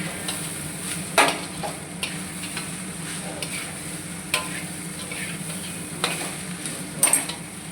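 Sago stirred into mashed sweet potato in a cooking pan, with a steady low sizzle and a few sharp spoon scrapes and taps against the pan at irregular moments.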